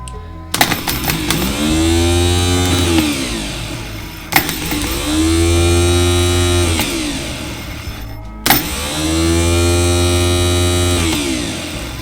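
Kubota L185 tractor starter motor bench-tested off jumper cables, three separate loud whirring runs, each spinning up with a sharp click and then winding down, with short gaps between them.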